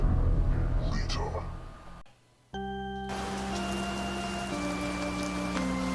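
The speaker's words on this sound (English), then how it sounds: "Rain hit the window of the hardware store" Rain patters against a hardware store window in a horror story scene, a steady hiss of drops under a whispering voice, then drops away before a sustained ringing tone takes over.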